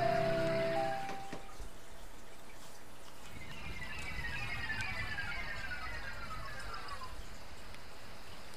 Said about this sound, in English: It's rainy here.